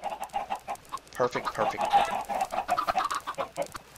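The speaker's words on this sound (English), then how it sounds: "I am glad that we now have a chicken farm" Chickens on a chicken farm in Minecraft cluck constantly, many overlapping short clucks in a busy rhythmic chatter, with a person briefly talking.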